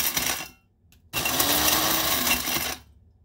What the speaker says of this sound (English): We're going to go ahead and start grinding. And you want to pulse.